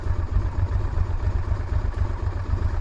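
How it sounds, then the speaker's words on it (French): A motorcycle idles roughly at around 1740 metres altitude, its engine pulsing in a steady, slightly uneven low throb with faint mechanical clatter, close and continuous with no talk. "T'entends la moto comme elle fait?"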